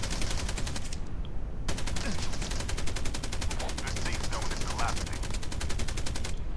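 Rapid, sustained LMG bursts in Call of Duty Mobile battle royale, a dense rattling stream of shots, loud and close, with a brief pause early on before firing resumes.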